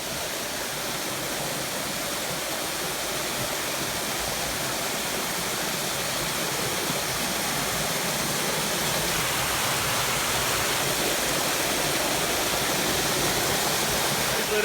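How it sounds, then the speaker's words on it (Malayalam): A small forest waterfall pours continuously, a dense, even rush of falling water heard up close and steady throughout with no talking. "രക്ഷയില്ലാത്ത സ്പോട്ടാണ് അടിപൊളി വെള്ളച്ചാട്ടം ചെറിയ വെള്ളച്ചാട്ടമാണെങ്കിലും"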